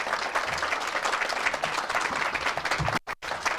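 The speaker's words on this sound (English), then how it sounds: "Let's give them a round of applause." Dense, steady applause from a celebration crowd, close and continuous, with a brief dropout near the end.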